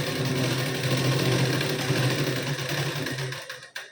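A sewing machine runs fast and steadily while lock stitching back and forth on a blouse, a close whirring chatter that stops abruptly near the end.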